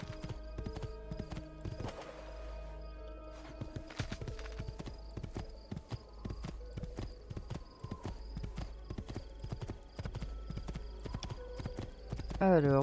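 Steady clip-clop of horse hooves at a trotting rhythm in Assassin's Creed II, with game music and effects layered over it, plus a brief whinny near the end.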